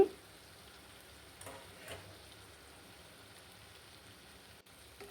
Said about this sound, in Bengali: আলু দিয়ে ভালো করে নেড়ে চেড়ে মশলার সাথে মিশিয়ে নিচ্ছি